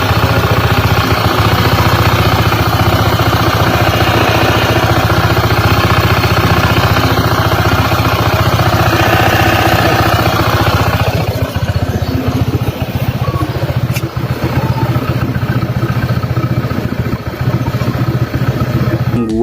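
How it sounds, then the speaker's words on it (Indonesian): A Honda PCX 160 scooter engine runs close by with a rough, clattering CVT drivetrain, a dense steady mechanical drone that eases slightly partway through and continues alone. "Seperti misalnya suara mesin kasar, suara CVT kasar."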